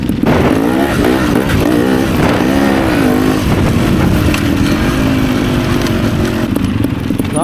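A touring motorcycle engine drones loud and close while being ridden, its pitch rising and falling with each rev, continuous and unbroken with no talking.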